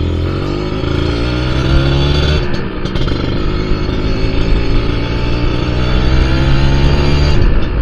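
Kawasaki RR150 motorcycle being ridden, its two-stroke engine droning loud and close with steady harmonic buzz, a brief drop and gear change midway, then pulling strongly again.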